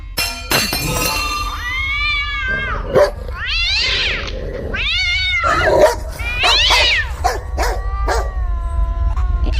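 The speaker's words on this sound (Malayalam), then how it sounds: "എന്താ അവിടെ ഒരു ശബ്ദം? അത് പൂച്ച കയറിയതായിരിക്കും." A cat meows loudly and repeatedly up close, several drawn-out rising and falling cries with short pauses between them.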